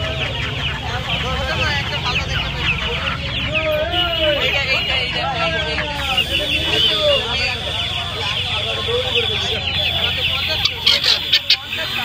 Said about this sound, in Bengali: একটা মুরগি দেখতে পাচ্ছেন